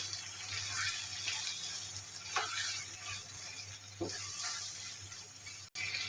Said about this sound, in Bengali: সব কিছু দিয়ে আমি এখন ভালোভাবে মাংসটাকে কষিয়ে নেব